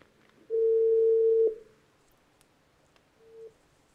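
A telephone line tone heard after a caller's line drops during a live call-in to a sports talk programme. One steady, clear tone lasts about a second, and a shorter, fainter beep follows a few seconds later over quiet background.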